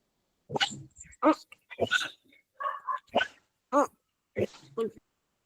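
A small dog barks and whimpers in a run of short yips and whines, close and fairly loud, spaced out with gaps of quiet between bursts.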